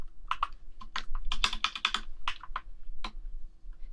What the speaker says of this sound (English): Wait, if I actually type, it's kind of fucking loud.